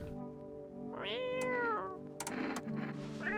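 A cat meows in the No, I'm Not a Human video game, giving two or three drawn-out, rising and falling calls up close and clear, with no talking over them.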